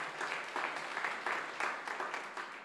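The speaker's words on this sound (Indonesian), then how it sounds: "Tepuk tangan yang meriah" A church congregation claps during a sermon, a soft, somewhat distant patter of many hands that swells and eases in waves for a few seconds, with no speech over it.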